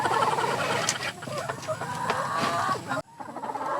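A flock of about 50 laying hens clucks and murmurs continuously at close range, a busy overlapping chorus that cuts off abruptly near the end.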